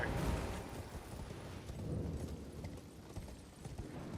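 A horse in a video game trots along with a steady clip-clop of hooves, moderately loud and continuous over a low rumbling background, with no voices.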